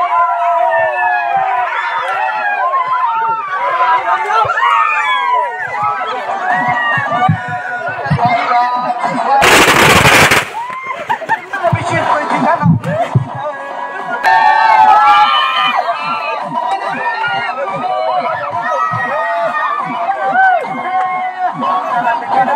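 Crowd cheering and celebrating a cricket match win at a village tournament, with a loud, dense roar of voices, shouts and chatter and a sharper burst of noise midway, close and continuous.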